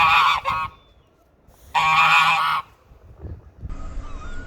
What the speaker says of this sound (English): I walked back and the geese were there again.